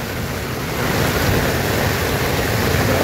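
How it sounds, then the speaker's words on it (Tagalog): Dense, steady roar of heavy rain pouring down outdoors, constant and loud throughout, with a whooshing wash over everything and no voices. "Grabe, sobrang lakas ng ulan."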